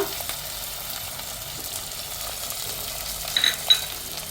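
Crushed ginger and green chilies going into a hot pan of oil, giving a soft, steady sizzle and faint frying crackle, low in level, with a couple of light clinks near the end.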